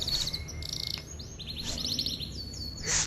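A white canary sings in bright, rapid trills and chirps, close and clear, with short bursts and pauses between phrases and no voices.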